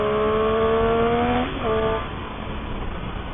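A Triumph 675 Daytona motorcycle engine pulls hard and loud with a steady high drone, briefly dipping at a gear change before climbing again, heard alone.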